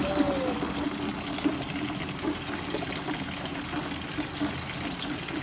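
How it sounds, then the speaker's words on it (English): Water running steadily while vegetables are watered, a continuous splashing, trickling wash close by with a low rumble beneath it throughout. "Now to water the vegetables."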